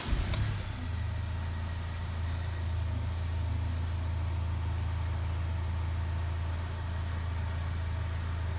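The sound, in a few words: Kia car engine starting and idling after fuel filter change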